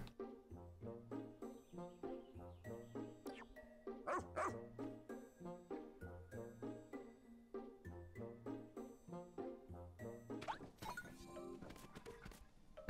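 A cartoon dog barks in the Pikmin 4 video game, short repeated yips over bouncy, steady game music.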